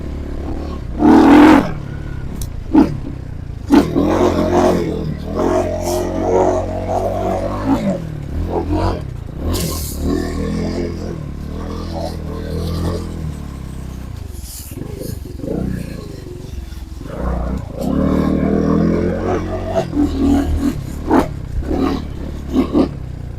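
A Trailmaster TM31 dirt bike engine runs and revs on trails, rising and falling in loud, uneven bursts with sharp throttle blips and pitch sweeps, close by.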